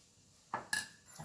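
Bowls and utensils clink while steamed vegetables and sticky rice are portioned out beside a grilled green chili salad with dried shrimp; two quick, close, fairly soft clinks sound alone in a quiet room.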